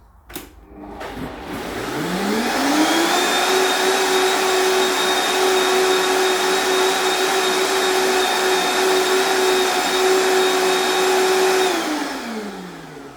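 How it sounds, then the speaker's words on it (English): A Vitamix blender on its highest setting making oat milk spins up, holds a loud steady high-pitched whine for about ten seconds, then winds down. "you do need a good blender. I use the Vitamix."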